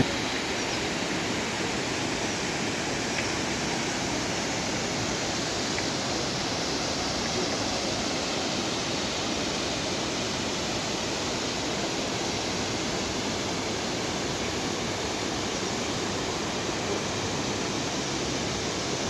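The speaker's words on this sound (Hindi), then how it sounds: "पूरे रास्ते में ऐसे कई सारे झरने हैं।" A roadside waterfall along the steep Kedarnath trekking path roars as a steady, dense wash of rushing water that fills the whole stretch evenly and loudly, with no voices.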